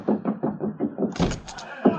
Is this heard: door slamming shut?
yes